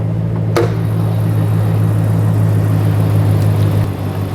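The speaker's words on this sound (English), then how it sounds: "This engine sounds good." A Ram 1500 pickup truck's gasoline engine idles steadily with a low, even hum, plus a brief click near the start.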